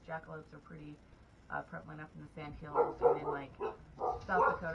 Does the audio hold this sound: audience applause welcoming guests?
no